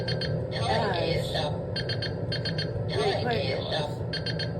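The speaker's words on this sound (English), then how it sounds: "Oh, shut up, timer." A kitchen timer goes off in a group home where air fryers are cooking. It beeps in repeated rapid bursts that come and go in a steady pattern, under a person's voice and background clatter.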